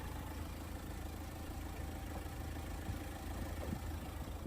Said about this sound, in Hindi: तो ये है 2200 CC inline 4 cylinder D22 M-Hawk diesel engine